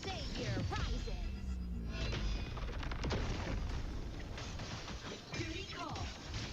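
Rapid cannon fire and booming explosions from a video game's cluster cannon, loud and dense throughout, mixed with game effects and voices.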